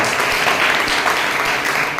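Seminar audience claps loudly and continuously, a dense, sustained burst of applause filling the room from start to finish with no break.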